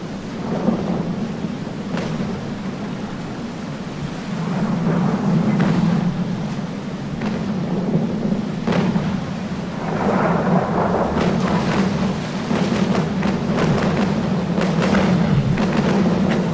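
A thunderstorm with rain in the naval sailing game Naval Action: steady, close rain hiss throughout, with repeated deep rumbling thunder rolls and sharper cracks building toward the end.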